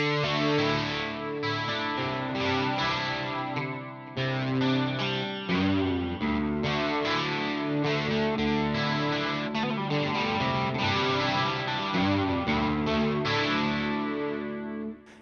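Electric guitar through a modeled MXR Dynacomp compressor plays chords with a compressed, sustained tone, strums evenly squeezed in volume, loud and steady without any talking.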